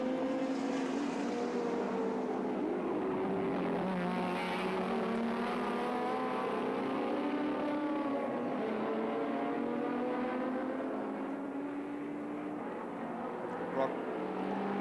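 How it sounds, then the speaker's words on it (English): Touring race cars compete at Sandown in 1984, their engines droning and shifting pitch as they pass. The roar holds steady and moderately distant while a commentator talks over it throughout. "Moffat passing the Valentine car of Murray Carter"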